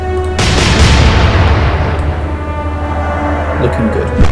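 Naval guns in the Atlantic Fleet warship game open fire with a sudden loud boom that decays into a long rolling rumble, with a voice speaking over it.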